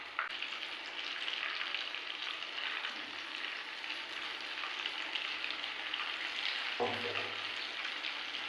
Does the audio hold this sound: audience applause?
no